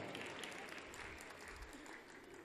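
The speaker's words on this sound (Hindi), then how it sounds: "मैं चाहता हूँ जरा तालियां बजा दीजिए एक मर्तबा मोहतरमा के लिए।" Sustained applause from an audience at a Hindi-Urdu poetry mushaira in Paharpur, Azamgarh, a dense steady clatter of many hands that fills the space with little letup.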